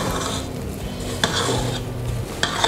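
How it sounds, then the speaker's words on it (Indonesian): Cake batter for a pandan coconut sponge, mixed with vanilla powder, baking powder and milk powder, being stirred in a bowl with soft scraping and a few sharper utensil knocks, close and steady. "Kita aduk rata dulu."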